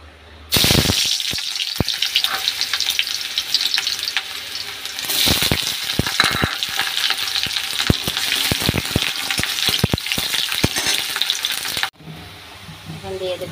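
Onions dropped into hot white oil in a wok burst into a loud, bright sizzle that crackles on steadily with stirring, then cuts abruptly to a softer hiss near the end.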